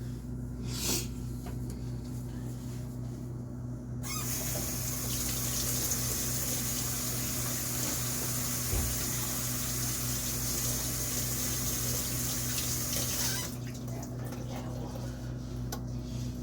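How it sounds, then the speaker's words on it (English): Tap water runs into a kitchen sink for hand washing while meatloaf is being made. A steady rushing stream starts abruptly, continues for about nine seconds, then cuts off, over a low, constant background hum. "wash my hands real fast"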